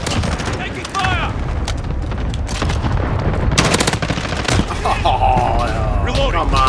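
Rapid bursts of automatic gunfire and loud explosions in a Call of Duty firefight, dense and continuous at close range, with a voice calling out over the shooting.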